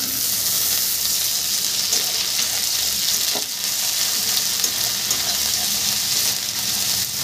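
Ginger paste fries in hot oil alongside garlic paste, giving a loud, continuous close-up sizzle with faint stirring underneath.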